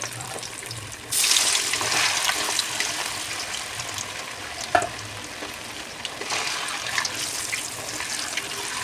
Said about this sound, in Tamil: இப்போ மீனும் பொரிச்சுக்கலாம்